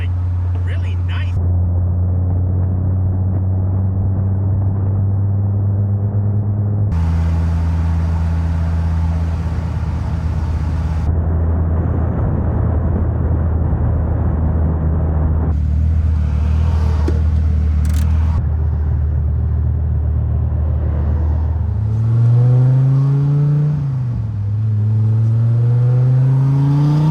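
An engine-swapped Nissan 240SX is under way, its engine droning steadily in the cabin. The revs step up and down through gear changes and swell into a rising acceleration near the end, while people talk over the noise.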